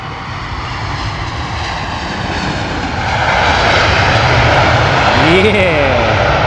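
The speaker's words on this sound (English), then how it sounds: "Here comes the Air India A350." An Air India Airbus A350 passes at Heathrow, its jet roar swelling louder midway with a rising whine, while someone talks over it.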